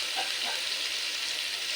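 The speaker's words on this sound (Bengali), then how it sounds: "আলুটা ভাজা হতে থাক" Potatoes fry in a pan for Bengali alu posto, giving a soft, steady sizzle with faint crackles, close by and fairly quiet, with no talking.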